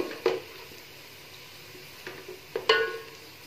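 Sliced onions frying in hot oil until golden for kofta biryani, a soft steady sizzle with a few brief crackling pops and stirring scrapes, heard close and fairly quiet with no talk.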